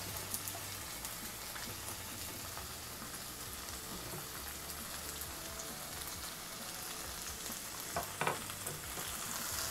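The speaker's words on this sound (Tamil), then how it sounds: "இதை வந்து நல்லா நம்ம வதக்கிடலாம். ஒரு 2-3 நிமிஷம் நம்ம நல்லா வதக்கிடலாம் இந்த காயை." Potato, beans, carrot and cauliflower sauté in a pan for avial with a steady, close sizzle and occasional stirring scrapes, continuous and without speech.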